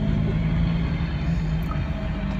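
Car picking up speed on a road near forts and temples, a steady, loud engine drone with road rumble heard from inside, with no talking.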